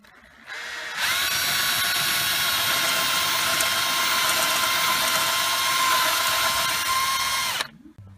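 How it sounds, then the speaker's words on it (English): A power drill whines steadily for about seven seconds at close range, drilling out pop rivets on a Porsche 911 during ignition switch removal, starting abruptly and cutting off at the end, with no talking. "So now I'm just going to drill out these rivets with my drill motor."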